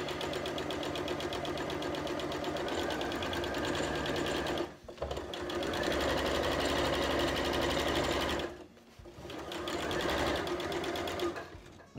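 A sewing machine whirs continuously at speed while stitching an upholstery-fabric play mat, stopping briefly twice before running on, loud and close.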